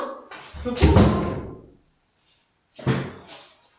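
A cat forcing open a door from outside: a loud clatter and thump of the door, then silence, then a second, shorter knock and rattle, close to the microphone.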